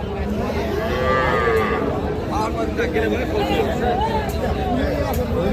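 Cattle, small bulls and heifer calves moo repeatedly at a busy livestock market, loud and close, over a constant babble of crowd chatter and nearby talking.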